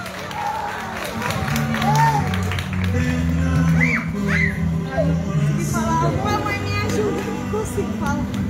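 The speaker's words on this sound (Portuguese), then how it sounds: "Uma salva de palmas, pessoal." Applause and cheering from a crowd at a live Christmas children's school event, rising and falling steadily throughout, with voices and music mixed underneath.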